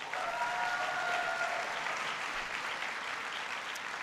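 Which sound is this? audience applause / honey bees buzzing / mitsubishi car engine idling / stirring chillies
audience applause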